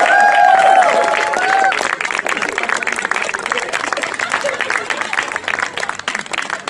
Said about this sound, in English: Please keep the applause going.